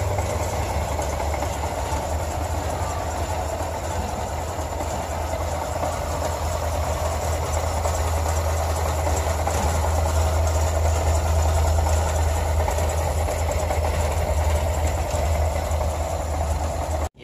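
A car engine idling at about 1000 RPM while warming up with the radiator fan awaited, a steady low rumble with a constant hum, close and unchanging throughout, no talking.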